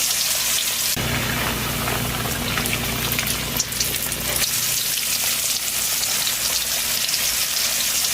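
Marinated fish fries in coconut oil, giving a loud, dense, continuous sizzle and crackle close up, with occasional spatters and no voices.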